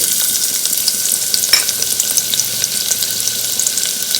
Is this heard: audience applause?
no